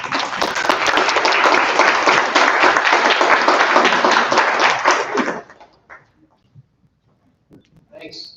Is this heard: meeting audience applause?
yes